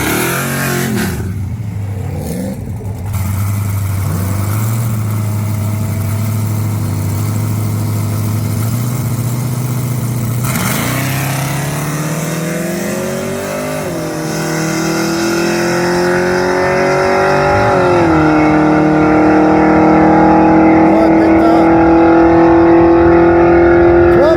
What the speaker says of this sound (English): Willis's car should pick up a 1/10 or more just from the DA